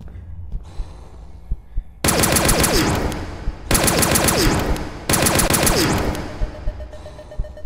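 Automatic gunfire in a video game comes in three long, loud rapid-fire bursts separated by short pauses, with quieter background sounds between them.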